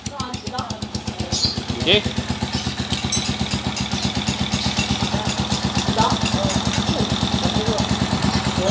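A motorcycle with a rusted, perforated exhaust idles close by, its rapid even popping pulse running throughout with a metallic rattle on top; a voice speaks briefly over it.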